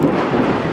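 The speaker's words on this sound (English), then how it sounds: "Oh, that's some pretty close thundering and lightning." Close thunder rumbling loudly through a storm, a deep continuous roll lasting under a second with no break in the sound.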